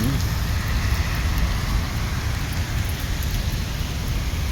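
Heavy rain pours in the UAE, water running up onto a footpath, in a dense, unbroken roar of downpour that stays loud and even throughout, with no voices.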